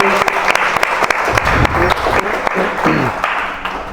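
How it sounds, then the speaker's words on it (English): Audience applause at a Bitcoin Q&A talk, a dense steady wash of many hands clapping, fairly close and loud, with a few voices faintly mixed in. "So please give compounded interest a big round of applause."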